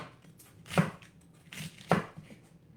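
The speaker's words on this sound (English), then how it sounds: "I'm going to cut all the way down." A knife slices through a cabbage on a board, with two distinct, close crunching cuts about a second apart over a quiet background.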